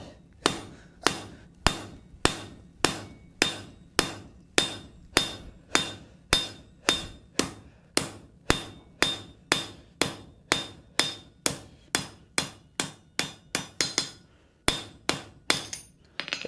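A hammer forges copper tongs reins on an anvil in a steady run of about thirty sharp metallic blows, each ringing briefly, with a short pause near the end and no talk.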